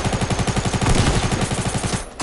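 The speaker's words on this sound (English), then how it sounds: "Oh, I'm dodging bullets." Rapid automatic gunfire in Fortnite season 3 on PS4 sounds as a dense, loud, evenly spaced burst of shots that stops abruptly near the end, with no talking.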